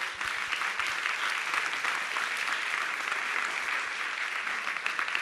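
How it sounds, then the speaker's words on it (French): An audience applauds Judith Mehl after her talk on artificial intelligence in daily life, a steady, dense wash of many hands clapping together for the full length, with no voices standing out. "On applaudit Judith Mail."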